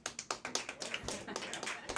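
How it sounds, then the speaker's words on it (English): A comedy show crowd claps in response to a host warming them up, scattered quick claps that thin out, fairly faint and distant. "clap if you've ever been to this show before."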